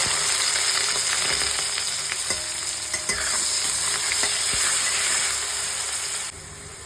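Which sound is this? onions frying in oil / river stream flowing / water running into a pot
onions frying in oil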